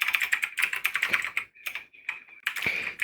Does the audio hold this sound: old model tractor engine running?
no